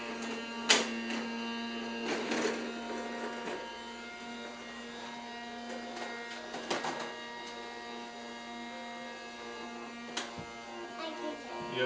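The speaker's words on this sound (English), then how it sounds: "Go turn off your vacuum." A household vacuum cleaner runs with a steady motor hum throughout, with a few brief louder bumps and clatters over the drone; a child's vacuum is being used nearby while cleaning floor tracks.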